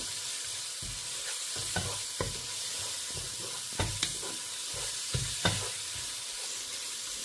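Ground spices and ginger paste bubbling and frying in hot oil for a prawn biryani masala: a steady close sizzle with several sharp spatula stirs and scrapes spaced through it.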